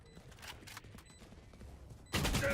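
Gunfire erupts in the tactical shooter Valorant, a few faint shots early on and then a loud, sustained burst of firing at the end, all with no voices.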